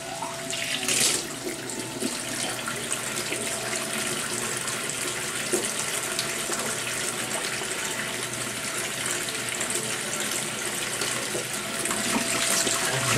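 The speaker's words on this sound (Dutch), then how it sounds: "En ik ga even lekker een glas fles water vullen." Cold tap water runs steadily from a faucet into a glass bottle, a continuous splashing gush with a rising filling tone, close and fairly loud, with no talking.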